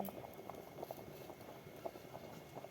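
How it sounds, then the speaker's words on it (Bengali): Rice boiling in a pot, a steady soft bubbling and popping with small irregular bursts, close and fairly quiet throughout. "ভাত ফুটছে"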